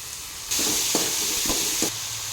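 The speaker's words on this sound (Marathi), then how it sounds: "यामध्ये मी आता आंबाडीची भाजी घालत आहे" Roselle (ambadi) leaves hit cooked tomatoes in a hot pan, setting off a sudden loud sizzle that holds steady, with a few soft stirring thumps, and no talk.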